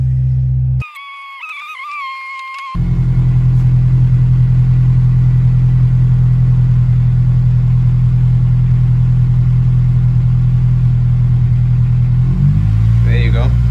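A Honda Civic Type R EP3 with a sticky starter cranks and fires into a loud, close, steady idle that wavers and hunts near the end, with no one talking over it.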